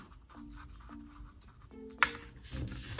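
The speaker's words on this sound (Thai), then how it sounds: "วิธีการนะครับก็ทำการพับครึ่งเลย" A sheet of green paper is folded in half for an origami paper gun, giving soft rustling and creasing scrapes with a sharper crackle near the end, close and quiet with no talking.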